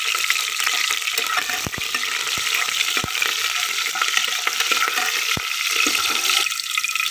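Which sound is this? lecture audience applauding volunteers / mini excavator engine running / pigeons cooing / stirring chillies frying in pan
stirring chillies frying in pan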